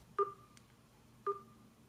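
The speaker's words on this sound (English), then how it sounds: "there's this lag in the feedback sound when changing the volume level" A Huawei P8 smartphone gives two short, faint feedback beeps about a second apart while its volume level is changed, against a quiet background.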